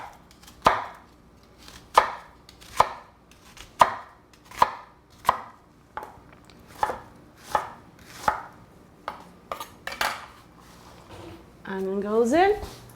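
A knife chops a big onion on a cutting board in a steady series of sharp, close knocks, roughly one every half second to second, with a few faster cuts near the end and a voice talking briefly at the close.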